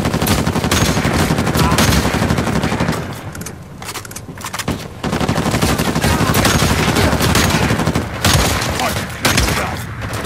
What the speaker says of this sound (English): start shooting his head with the Harbinger Sniper